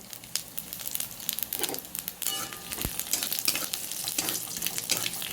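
Whole cumin seeds, a bay leaf and pieces of dried chili crackle and sizzle in a little hot oil in a home kitchen, a steady close frying hiss with sharp pops and spits throughout, no one talking.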